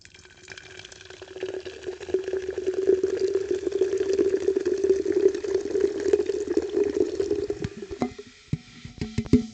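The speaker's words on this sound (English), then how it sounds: "And let's give this a pour." Monster Viking Berry energy drink is poured steadily into a glass, a continuous bubbling, gurgling stream of fizzy liquid that runs for several seconds before tapering off into a few splashes and drips.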